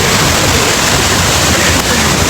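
Heavy rushing water of the Thoseghar waterfall, a dense, loud, continuous roar that fills the whole clip without a break.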